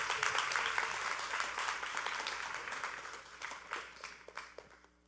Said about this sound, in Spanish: Si le va a aplaudir al Señor, apláudale,